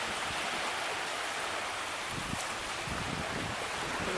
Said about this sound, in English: Here is East Harbor State Park Beach.